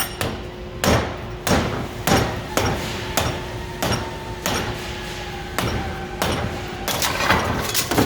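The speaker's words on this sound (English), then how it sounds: "I'm just gonna drive that heat exchanger out with my BFH" Heavy hammer blows strike metal at a slow, steady pace, about a dozen sharp ringing whacks, close and loud, as a heat exchanger is driven out of a Ford 6.7 diesel engine.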